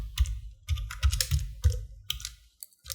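A computer keyboard typed on in short bursts, with clustered key clicks and thumps close up, separated by brief pauses, and no talking.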